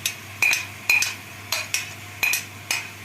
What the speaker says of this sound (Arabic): تقلبي بقى فيها كام تقليبه كده اهو